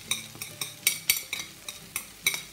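Ginger, onion and garlic frying in butter and oil in a pan, with a soft sizzle under repeated sharp scrapes and clinks of a utensil stirring against the pan, close and steady.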